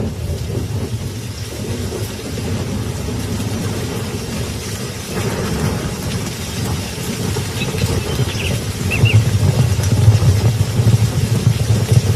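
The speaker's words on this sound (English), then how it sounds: "thunderstorms break overhead. At first, it's sound and fury, and then" Steady rain hisses over a deep, rolling rumble of thunder that swells louder toward the end; no voices.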